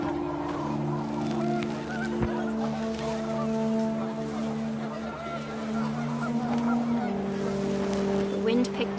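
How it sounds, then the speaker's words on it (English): Panicked geese honk repeatedly in the video game What Remains of Edith Finch, the cries layered over wind and a low sustained musical drone, fairly loud and continuous throughout. "The wind picked up, and panicked geese appeared and quickly went"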